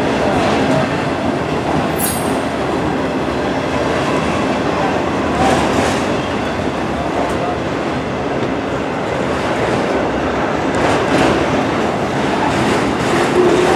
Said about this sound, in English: Yeah, there's a lot of Union Pacific Autoracks.